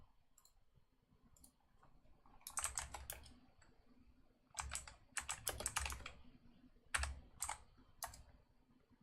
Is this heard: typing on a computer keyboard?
yes